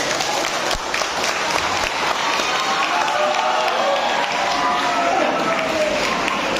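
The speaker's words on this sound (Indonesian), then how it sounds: "tepuk tangan untuk Pak Mustafa" An audience at an anniversary gathering breaks into loud, sustained applause, many hands clapping in a dense, continuous wash that holds steady throughout, with faint crowd murmur underneath.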